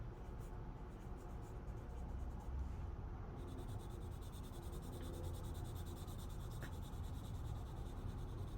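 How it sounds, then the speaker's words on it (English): Colored pencil pressed hard onto paper, rubbing and scratching in close, continuous strokes, with quiet talk at times. "Like I had to press down pretty hard to get that color on the paper."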